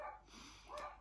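A dog indoors gives two quick, faint barks in a quiet house, heard at a distance.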